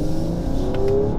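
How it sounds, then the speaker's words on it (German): A Mercedes-AMG GT 43 four-door engine, chip-tuned to 470 PS, rumbles and revs briefly nearby, a deep throaty exhaust note with particulate filter rising slightly toward the end. "Der Auspuffsound ist kernig, ja."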